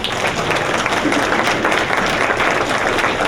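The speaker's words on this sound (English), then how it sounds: "let's go ahead and give Dr. Shank a round of applause" An audience at a Marymount University Committee of 100 evening applauds Dr. Shank with a full, even round of clapping, many hands sustained at moderate loudness throughout.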